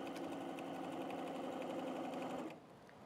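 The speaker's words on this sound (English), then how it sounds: "I'm sewing it to the front." A sewing machine runs continuously while stitching quilt binding, a steady close mechanical whir that stops near the end and leaves a quieter hum.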